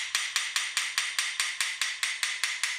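A small steel-faced positioning hammer lightly taps a metal surface, about fourteen sharp, bright clicks at a steady, even pace, close and isolated.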